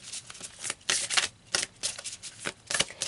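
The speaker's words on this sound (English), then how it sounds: "Let's pull some more cards to see what this is all about." Tarot cards being shuffled by hand in quick bursts of crisp riffling and slapping, a string of close, brisk rustles separated by short pauses, with no talking.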